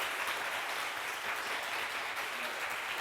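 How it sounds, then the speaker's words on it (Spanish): Conference audience applauds at the end of a talk on legal protection for video games, a dense, even wash of clapping that holds steady throughout at a fairly low, distant level. "Un fuerte aplauso para Yasmina y Alejandro"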